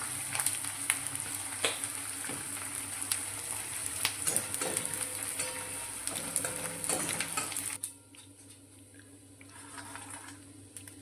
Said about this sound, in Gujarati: પહેલા આપણે ગુંદર તળી નાખશું